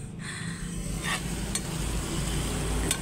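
A chicken mixture with soy sauce and black pepper sizzles in a pan as it is stirred, with a continuous close frying hiss and a few sharp spatula scrapes against the metal.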